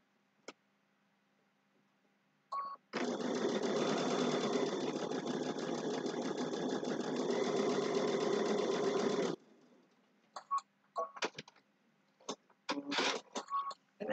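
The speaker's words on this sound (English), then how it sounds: "now I can stitch all the way down" A sewing machine stitches down the side of a fabric shopping bag with a pocket. A continuous whirring, ticking run lasts about six seconds, followed by a few short clicks and bursts as the fabric is handled.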